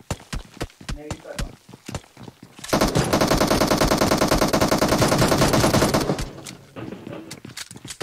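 Sustained automatic gunfire from a BGMI match, a dense loud burst lasting about three seconds, framed by scattered single shots and footstep-like taps before and after, with a voice talking faintly underneath.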